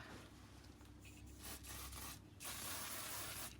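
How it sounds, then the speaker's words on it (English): An aerosol can of silicone hisses in a few short bursts onto acrylic paint, then one long steady spray, close by over a low background rumble. "what happens when you spray silicone on top?"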